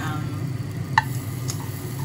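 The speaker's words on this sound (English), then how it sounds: "So just get yourself a bit of butter in there, get it all melted" Butter melts in a frying pan before sausages go in, giving a steady, soft sizzle close by with a faint clink partway through and no talking.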